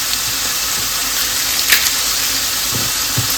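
Fresh garlic frying in a pan, a continuous bright sizzle with a few small clinks and taps over it.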